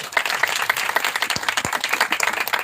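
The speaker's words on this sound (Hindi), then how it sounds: "तालियां बजाएं।" A church congregation claps together in a burst of lively applause, a dense patter of hands that continues throughout.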